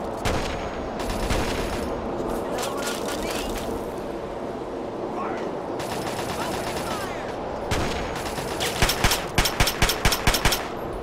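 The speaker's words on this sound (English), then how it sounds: "Who's shooting?" Gunfire rattles through a Fallout 3 game battle: dense, continuous automatic bursts and crackling shots, getting sharper and more distinct near the end, with intermittent game audio underneath.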